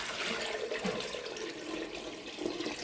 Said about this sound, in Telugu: వాటర్ కొద్దిగా తక్కువ అయ్యాయి కాబట్టి ఇంకొన్ని పోసేద్దాం